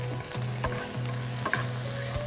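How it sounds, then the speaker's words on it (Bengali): Chopped onions with a bay leaf fry in hot oil in a pan, a steady close sizzle broken by a few short stirring scrapes and taps. "আপু এই যে আমরা পেঁয়াজ দিলাম, কুচি পেঁয়াজ"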